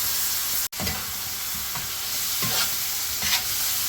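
Diced tomato frying with spices in a pan for okra curry, a steady close sizzle with soft stirring scrapes and a brief dropout early on, no talking.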